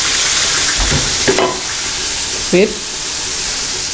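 Soya chaap frying and being stirred in hot oil with masala, a steady sizzle with a couple of brief scraping stirs, and a voice speaks briefly over it.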